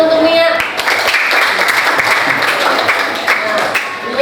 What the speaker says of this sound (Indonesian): Tepuk tangan untuk Mia